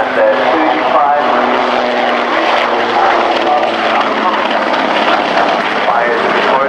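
A Super Puma transport helicopter flies overhead at an air show, with a steady, loud rotor and engine roar that holds constant throughout.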